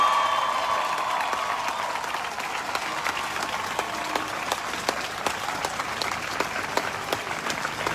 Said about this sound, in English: Can we give another applause for all the black women speakers who came out tonight?